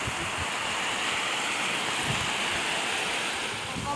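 Water flowing out of a small town pond at its outlet, a constant broadband rushing and burbling heard outdoors, steady and moderately loud with no voices.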